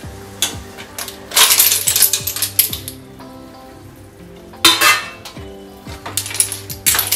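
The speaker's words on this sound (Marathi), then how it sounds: "त्याच्यात आपण शिंपल्या घालणार आहे." Clams dropped into roasted masala in a pan make a series of sharp shell clatters and clinks against the metal, in two bursts with sizzling between them, loud and close.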